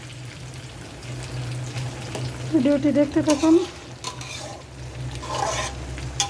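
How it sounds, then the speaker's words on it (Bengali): Jackfruit seeds with dried chepa shutki fish fry in oil while being stirred, a soft continuous sizzle with scraping stirs and a brief clatter of utensils, and a voice speaks briefly partway through. "শুটকিটা দিয়ে কাঁঠালের বিচিগুলো খুব ভালো মতো কষিয়ে নিচ্ছি।"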